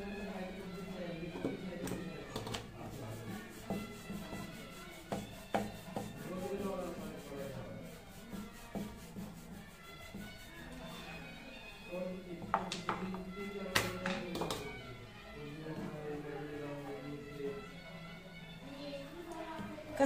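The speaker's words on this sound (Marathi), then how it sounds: "आता मी चपाती लाटून घेते" Chapati dough being rolled out with a very thin rolling pin in a home kitchen: a soft, repeated rubbing and rolling with occasional light taps, heard under a voice speaking.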